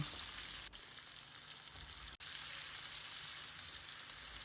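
Chopped onion, carrot, red bell pepper and tomatoes fry in a small skillet, giving a soft, continuous sizzle close by with two brief dropouts, no voices present.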